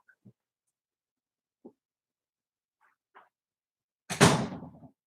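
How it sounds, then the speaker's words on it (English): A door in a house is shut with a single firm thud that rings out briefly, following a few faint clicks and taps in an otherwise quiet room. "Shut the door so people don't hear me complaining."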